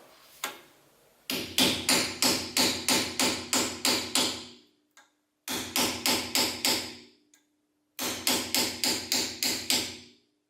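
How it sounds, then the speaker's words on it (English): Three bursts of rapid metallic hammer taps on a screwdriver against a Ford Fiesta Mk6 drum brake cover, each a quick run of about eight blows, separated by short pauses, loud and close. "I'm just going to use a hammer and a screwdriver just to get this cover off"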